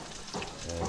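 Food frying in a pan while being stirred, a steady dense sizzle with a soft scraping stir midway, close and continuous.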